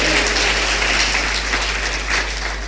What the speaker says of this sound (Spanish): dale un fuerte aplauso al Rey de la Gloria